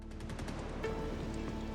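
Rapid automatic gunfire in the space game Star Citizen during a fight aboard a Caterpillar ship, a fast rattling burst of evenly spaced shots followed by a brief tonal ping and continued crackling fire.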